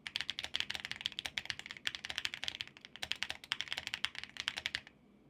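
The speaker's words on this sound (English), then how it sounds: "This is Keychron's flagship keyboard, so as you expect, the sound and build quality are top tier." Rapid typing on a Keychron flagship mechanical keyboard with RGB lighting, a dense, steady stream of crisp clacky keystrokes at close range that carries on for about five seconds with no voices.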